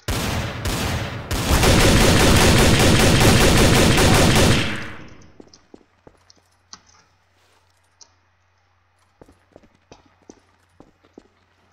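Sustained rapid gunfire in a Garry's Mod Trouble in Terrorist Town match bursts loudly for about five seconds and then fades, leaving scattered sharp clicks and faint impacts.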